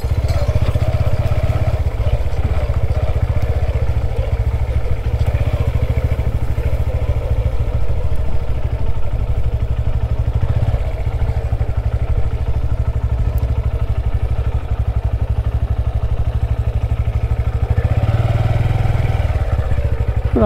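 A Honda CB 125 motorcycle rides on a rough off-road track, its engine thrumming loud and steady up close with rattling clatter throughout, the rhythm shifting slightly near the end.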